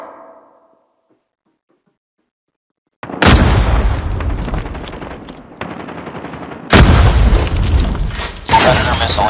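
Call of Duty Mobile frag grenade blast after a silent pause, a loud boom followed by rattling machine-gun fire and more heavy bursts of battle noise.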